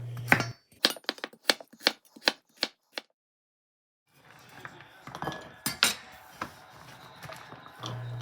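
Carrots chopped into bite-sized pieces with a knife on a board for beef stew: a quick run of sharp, evenly spaced chops, a pause, then a looser clatter of knife and pieces, close and clear.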